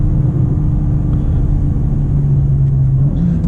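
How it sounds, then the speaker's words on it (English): A 2025 BMW M2 engine under hard acceleration, a loud, steady low rumble heard from inside the cabin. "This engine just rockets you out of turns."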